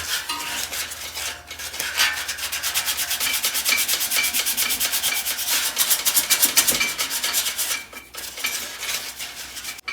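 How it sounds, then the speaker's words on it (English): Sandpaper rubs back and forth over grey primer on a car grille, a close, steady rasping scrape in fast repeated strokes with a brief pause near the end. "So I've got it all sanded down decently."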